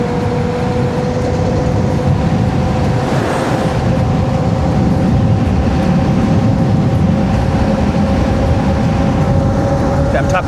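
Heavy, steady wind rush roars over a steady whine while riding a Mangosteen FT07 e-bike at speed, loud and unbroken the whole time.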